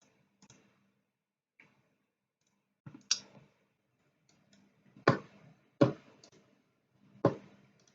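A computer mouse clicks sharply in a quiet room, a sparse handful of isolated clicks spread irregularly over several seconds, close and crisp.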